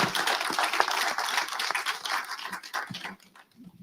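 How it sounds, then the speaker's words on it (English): Audience applause for a discussion panel at a talk on prostate cancer disparities in Black men: dense, steady clapping from a crowd that fades toward the end. "Can we have a round of applause for this amazing panel?"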